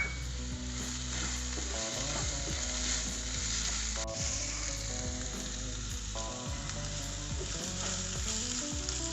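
A mushroom pepper fry with spices and salt is stirred in a pan, its steady sizzle carrying under loud, sustained music with rhythmic beats.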